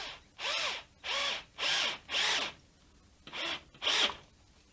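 Power drill boring holes into a handmade guitar body to fit hardware, six short whirring bursts with rising pitch, close and clear, separated by brief gaps.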